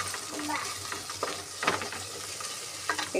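Ginger-garlic paste with turmeric stir-fries in a pan for a cabbage curry, a steady close sizzle with occasional scraping stirs of the spatula, fairly quiet and without talk.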